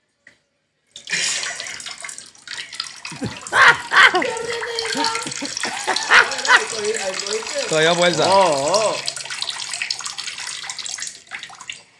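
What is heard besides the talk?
urinating into toilet water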